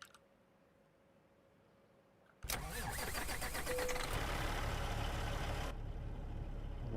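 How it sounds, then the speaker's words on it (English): A heavy truck engine in American Truck Simulator cranks and fires up at once, then settles into a loud, steady rumbling idle that carries on to the end. "We're gonna hear the beautiful startup again."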